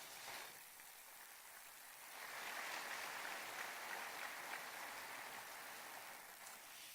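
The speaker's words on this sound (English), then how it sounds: "Please give them a round of applause." Faint, distant audience applause rises into a steady patter of clapping at a mayor's State of the City address as the sponsors are recognized.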